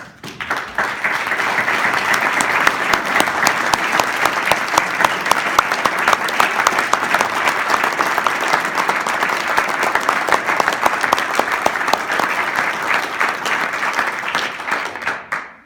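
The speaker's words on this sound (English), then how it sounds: "I want to applaud you guys" An award ceremony audience claps in long, sustained applause honoring former staff of a governor's office, a dense and loud wall of hands that holds steady for about fifteen seconds before tapering off at the end.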